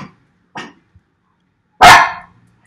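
Dog barks, three quick short barks spaced across the first second followed by one loud, longer bark near the end, close to the microphone with no talk.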